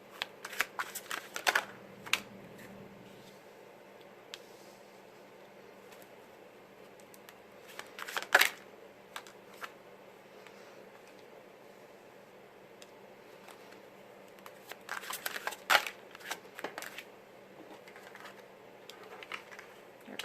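Tarot cards are shuffled and dealt at close range, soft papery flicks and slaps arriving in scattered bursts over a quiet background.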